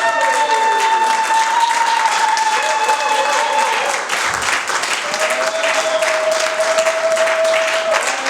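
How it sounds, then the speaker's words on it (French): Church congregation breaking into loud, sustained applause and cheering during a service, continuous clapping from many hands with a held musical tone sounding underneath. "Parce que nous pouvons acclamer pour la parole"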